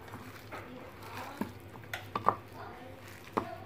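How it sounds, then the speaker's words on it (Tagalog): Beef being mixed with tapioca flour and spices in a pan, heard as soft scattered clinks and scrapes of a utensil against metal over a low background hum. "haluin din po natin ng maigi ang ating tapioca flour sa ating beef at mga pampalasa"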